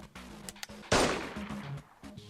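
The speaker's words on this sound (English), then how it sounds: "A gunshot rings out and sends a shockwave through the alley's dry air." A single loud gunshot blast from the fighting game Persona 4 Arena, set in an alley, with a sharp broadband crack and decaying tail in the middle, surrounded by quieter game music or ambience.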